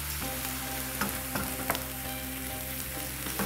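Onions sizzle steadily in a pan as flour is stirred in for Zwiebelkuchen, a constant hiss broken by a few light clicks and scrapes of the spoon, with no one talking.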